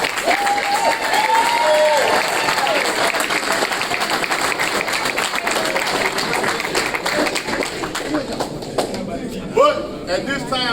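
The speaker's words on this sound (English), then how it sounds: "let's give Caleb Joseph another round of applause" A crowd applauds at a football signing ceremony for an All-American running back, sustained clapping filling the room with scattered cheers and voices underneath.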